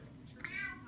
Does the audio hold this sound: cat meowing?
yes